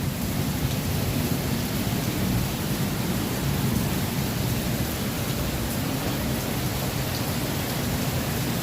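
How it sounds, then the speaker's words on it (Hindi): Heavy rain pours steadily with gusting wind, a dense, continuous roar close by that never lets up, with a faint low rumble beneath; no voices. "हवा भी चल रही है और बारिश भी तेज आ रही है।"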